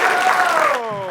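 Audience applause for a comedian at a live comedy show, a dense wash of clapping that fades slightly toward the end of the short burst.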